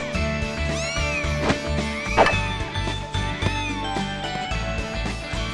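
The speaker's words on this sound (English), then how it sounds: "Please, cat, stop getting in the way." Cats meowing in the visual novel game Little Busters, several short rising and falling meows scattered over game music and thwacking hit sounds, fairly prominent and close.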